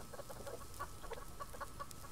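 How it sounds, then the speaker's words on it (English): Two backyard chickens cluck in short, scattered calls over steady low background noise, fairly faint and without any voices. "So now we have two chickens."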